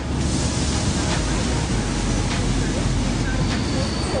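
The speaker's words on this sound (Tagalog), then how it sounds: "We're waiting for our train going back to Maastricht." A train at a European railway platform, on a route back to Maastricht in the Netherlands, gives a steady, loud, close roaring rumble that fills the whole stretch without a break.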